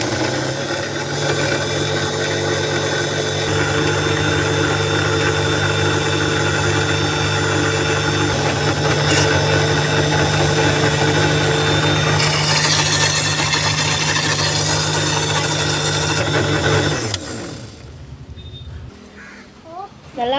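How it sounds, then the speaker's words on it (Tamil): An electric blender whirs loudly and steadily while blending a frothy drink, its motor droning close by for about seventeen seconds before cutting off into near quiet. "நம்ம இதை க்ளோஸ் பண்ணி பிளெண்ட் பண்ணிக்கலாம்."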